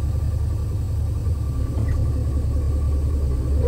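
A truck engine gives a low, steady rumble as the vehicle pulls forward during an air brake check, heard close and constant throughout with no talking.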